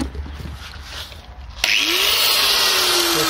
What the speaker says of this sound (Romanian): să iau un flex, să-l pornim,